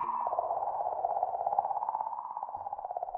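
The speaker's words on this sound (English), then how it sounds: "That is the sound of a comet." A comet sound recorded by the Rosetta spacecraft, heard as a faint, steady, warbling tone with a fluttering, clicking pulse running through it, continuous and alone.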